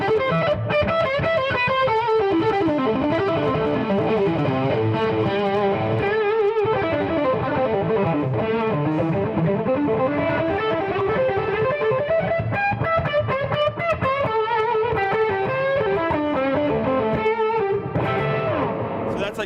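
Electric guitar played through a Marshall-style Jubilee amp into Van Wilden cabinets, a loud, sustained distorted lead tone with delay, continuous melodic lines and chords filling the whole stretch without pauses.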